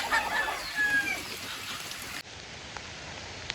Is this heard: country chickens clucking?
yes